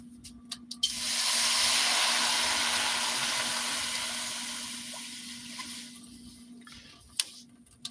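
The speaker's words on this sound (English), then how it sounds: "I'm gonna put a little bit of the water in the big pot" Steady rushing water pours into a big pot for about five seconds, loud at first and gradually tapering off, with a few small clinks before and after.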